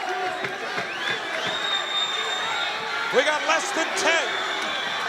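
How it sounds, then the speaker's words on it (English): An arena crowd at a Hawaii MMA bout between Max Holloway and Harris Sarmiento roars and cheers during the closing moments of the final round. The steady crowd noise runs under excited commentary, with occasional louder swells and sharp thuds. "Crowd urging these fighters to finish strong."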